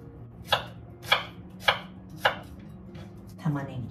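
New-season onion chopped with a knife on a cutting board for a vegetable-packed miso soup, four brisk, evenly timed close thuds followed by a softer scraping cut, no speech over it.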